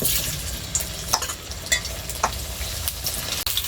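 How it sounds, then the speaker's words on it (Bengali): Boiled potatoes fry in mustard oil in a wok with a loud, continuous close sizzle, punctuated by several spatula scrapes and taps as they are turned; nobody speaks. "এই সিদ্ধ আলুটা এবার ভেজে নেবো কড়াইয়ে দিয়ে দিচ্ছি"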